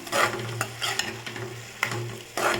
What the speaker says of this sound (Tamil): இப்போ கொஞ்சமாக கருகப்பிலை சேர்த்துக்கலாம் சேர்த்து நல்லா வதக்கிக்கலாம்